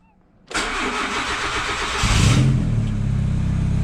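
A Honda Civic EJ9 parts car engine cranks briefly, then catches and settles into a steady, loud idle with a low rumble.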